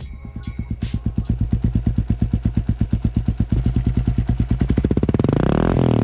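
A Kawasaki KLR650 dual-sport motorcycle with an aftermarket Lex exhaust and snorkel removed idles with a loud, lumpy pulsing exhaust note, then revs up sharply near the end into a rising, raspy roar.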